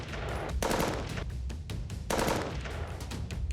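Gunfire from an attack in which Baba Siddique was shot, heard as two dense bursts of rapid, loud, cracking shots with a noisy backdrop between them.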